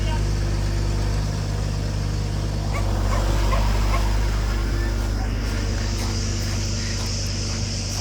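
Dogs and puppies whimpering and yipping at a dog shelter, scattered near yelps and whines over a constant low engine-like hum, with voices talking in the background.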